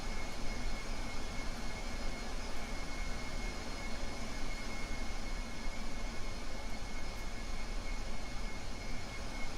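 Spaceplane taxiing in Kerbal Space Program, a steady, fairly quiet engine drone with a faint high whine, unchanging throughout.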